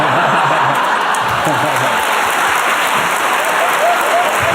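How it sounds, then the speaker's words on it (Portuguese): Loud, dense applause from a stand-up comedy audience, steady and sustained throughout with scattered whoops and laughter mixed into the crowd noise. "você conseguiu um aplauso mais forte do que eu vou conseguir o show inteiro"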